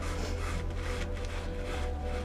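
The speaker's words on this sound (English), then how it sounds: "I'm just taking off some of that questionable white in here as well" Steady close scraping and rubbing as white paint is worked off a painted surface, continuous for a couple of seconds over a low electrical hum, with no talking.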